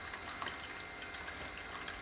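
Small splashes of water stirred by hand beside a Peltier thermoelectric module test setup, a soft continuous wash with faint irregular plinks, close and quiet.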